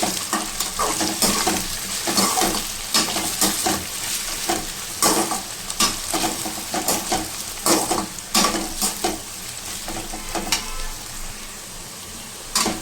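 Pieces of arbi (taro) frying in hot oil, a steady close sizzle broken by repeated scraping clatters of a spoon stirring the pan, no talking.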